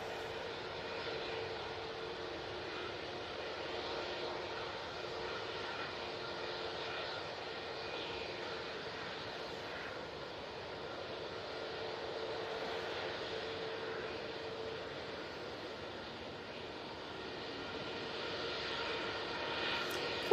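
A Loganair Airbus A320neo departs Manchester Airport for Munich, its engine noise a faint, distant, even drone with a slow swell near the end, no talking.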